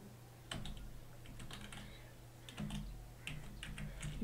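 Computer keyboard keys clatter in quick irregular bursts during gaming, soft and close with short pauses between flurries of presses.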